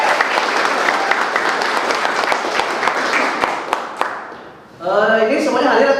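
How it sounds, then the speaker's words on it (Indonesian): Students in a classroom break into applause, a dense sustained clatter of many hands that fades out before a short burst of chatter and voices at the end. "Tepuk tangan untuk semua."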